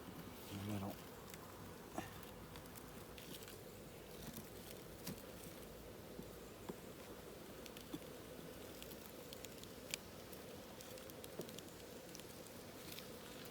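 Honey bees swarming around an opened beehive during a late-August inspection, producing a dense, continuous buzzing drone with faint scattered taps and rustles, heard at close range at a soft, even level.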